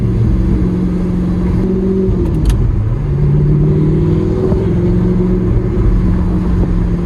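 A first-generation Audi R8 with a gated manual gearbox revs loudly and continuously up close, its engine note rising and falling through gear changes with steady harmonic sweeps and no talking.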